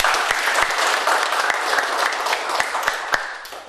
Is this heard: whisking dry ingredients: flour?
no